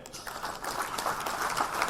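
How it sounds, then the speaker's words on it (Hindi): Audience applause at a Sindhi community council gathering: a steady wash of many hands clapping, moderately loud and sustained for a couple of seconds, with no talk over it. "हुन जे लाइ हिकिड़ो ताली वॼायो"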